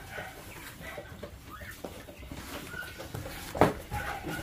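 Chickens and roosters in a flock cluck and call at moderate distance amid farmyard background noise, with a sharper, louder squawk standing out briefly near the end.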